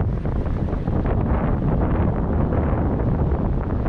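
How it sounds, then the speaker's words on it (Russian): Gusty mountain wind in the Darial Gorge near the Upper Lars crossing blasts the microphone as a steady, loud, close rumble with no voices. "Ветрено здесь, в Дарьяльском ущелье."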